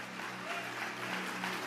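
A church congregation applauds God during a sermon with continuous, fairly soft clapping layered over a held musical chord.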